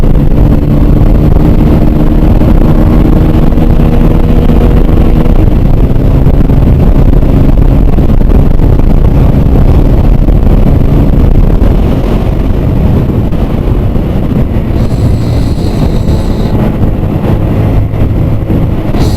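A Hero Super Splendor BS6 motorcycle engine drones steadily while riding at speed, a loud constant hum buried under heavy rushing wind noise on the microphone, with no talk.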